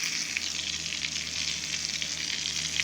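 Steady, close sizzling of a second batch of cornstarch-and-flour coated eggplant frying in hot oil, a continuous crackle with no voices.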